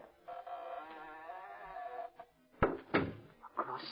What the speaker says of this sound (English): Now through this door.